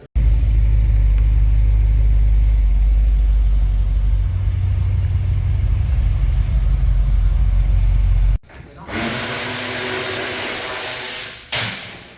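A car with an LS1 V8 runs with a loud, steady engine roar and low rumble. It cuts off abruptly partway through, and a higher, airier whirring follows, with voices talking over it.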